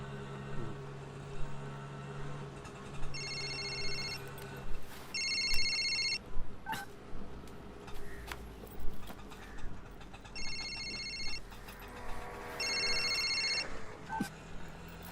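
A telephone ringing in repeated electronic bursts, each a short trill followed by a pause, moderately loud over quiet room sounds with scattered clicks and knocks.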